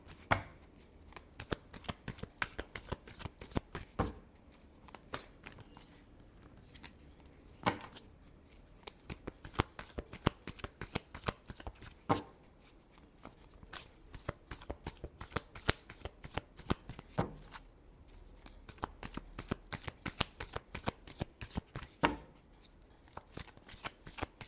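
Tarot cards are shuffled over and over in a quiet room, giving rapid, crisp riffling and slapping bursts. The rhythm stays steady and close throughout, with no talking.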